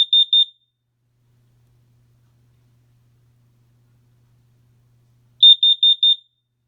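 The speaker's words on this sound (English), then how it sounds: "Let the alarm sound." A carbon monoxide detector sounds its test alarm: a quick burst of four sharp, high beeps, about five seconds of silence, then another burst of four, close and clear with no talking.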